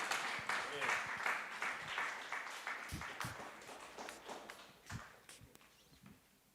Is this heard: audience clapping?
yes